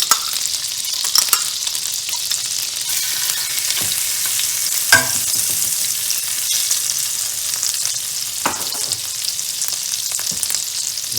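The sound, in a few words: garlic sizzling in hot oil and butter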